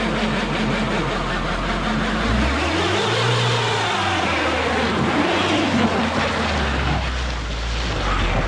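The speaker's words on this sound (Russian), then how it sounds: "Вот это колесо будет буксовать. Соответственно, система будет его подтормаживать, и мы сможем заехать на этот вот пригорочек." A LADA Vesta SW Cross 2020 with a robotized gearbox revs its engine as a front wheel spins on a slope during a traction-control test, a loud, steady engine drone rising and falling in pitch, with no talking.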